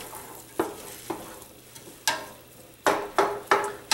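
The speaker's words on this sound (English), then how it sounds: "now this is gonna saute for at least 5, probably closer to 10 or more minutes" Onions sauteing in a pan for a homemade marinara sauce, a steady close sizzle punctuated by about seven sharp spatula strokes and scrapes, the later ones coming in a quicker cluster, with no talking.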